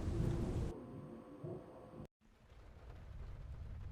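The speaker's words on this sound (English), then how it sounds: "We got a storm." Rain and rolling thunder sound through a horror video game storm, a loud noisy rumble that cuts out abruptly, falls silent for a moment, then returns as a quieter steady downpour.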